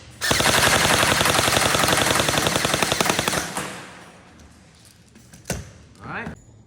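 A G&G SRXL long-barrel airsoft gun fires a rapid full-auto burst of closely spaced snapping shots for about three seconds, followed by a few faint clicks and handling noises.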